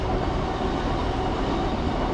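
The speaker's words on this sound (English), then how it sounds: "Wait for this train to finish." A train rolls past close by near a temple in Footscray, a loud, continuous broadband rumble and roar with no breaks, steady throughout.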